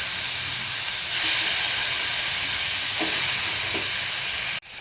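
Bombil fish, chilli and tomato dropped into hot oil with fried spices, a loud, steady close hiss of sizzling that swells slightly after a second and cuts off abruptly at the end.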